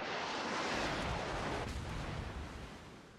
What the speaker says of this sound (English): that's Musashi fire incoming